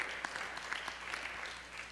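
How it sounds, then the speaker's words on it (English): Church congregation clapping hands together in praise, a steady even patter of many hands under a moderately distant room sound, with no voices standing out. "Let's give the Lord a hand clap and a praise offering"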